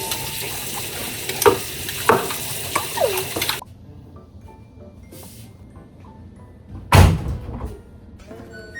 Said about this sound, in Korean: 엄마 설거지 하는 거 구경하는 거야?